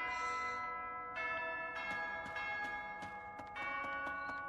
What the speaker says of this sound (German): Und da geht schon wieder die Klingel.